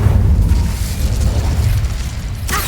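An Incendio fire spell bursting in Hogwarts Legacy, a loud, sustained booming roar of flame with a low rumbling body and a brief crackling flare near the end, with no voices.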